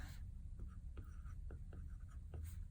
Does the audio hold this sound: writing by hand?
yes